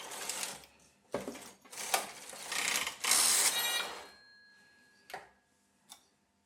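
A Brother KH940 knitting machine runs a Space Invader pattern, its carriage making several loud mechanical rattling passes in bursts, then sparse clicks and a brief ringing tone as it comes to a stop.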